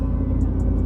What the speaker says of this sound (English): just hacking off your muffler, and it will kind of sound like a dump truck when you're rolling around town